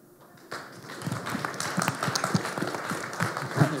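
An audience at an investor pitch session breaks into applause that starts abruptly and builds into a steady, moderately loud patter of many clapping hands, with a few louder claps close by.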